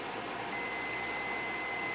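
A steady electronic buzzer tone drones continuously from a 1965 Cadillac while its neutral safety switch is tested for the reverse light, close and unbroken for the whole stretch.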